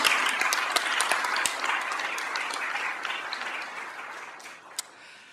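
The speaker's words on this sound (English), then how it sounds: "Let's give another big round of applause to our OCB family." An audience at a public works department meeting applauds staff, with dense clapping at first that slowly thins and fades, ending in a few scattered claps.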